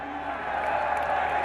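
Crowd at an outdoor Pakistan Tehreek-e-Insaf political rally in Sargodha applauds and cheers steadily, a dense, continuous wash of clapping and voices held at an even level throughout.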